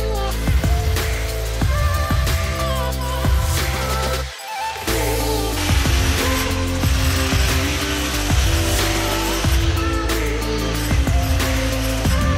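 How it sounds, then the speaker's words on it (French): A jackhammer pounds away during bathroom demolition, a loud, continuous rapid hammering with a steady low drone, stopping briefly for a moment near the middle before resuming at full force. "c'est parti sur un marteau piqueur"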